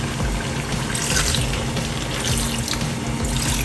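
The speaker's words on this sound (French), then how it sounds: "Je vais rajouter un peu d'eau" Water is poured into a cooking pot of meat and vegetables, a loud steady splashing rush with bubbly texture that runs continuously and close by.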